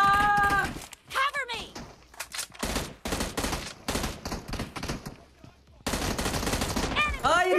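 Bursts of automatic gunfire and rapid single shots ring out in a PUBG Mobile match, loud and close, separated by brief pauses, with excited voices talking over parts of the action.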